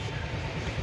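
A train rumbles past nearby in a steady, low, continuous roar with no breaks or voices over it.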